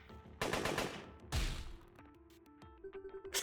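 Two sharp, heavy gun blasts in a turn-based battle in Long Gone Days, each ringing out and decaying, followed by lighter tonal game effects and soft thuds.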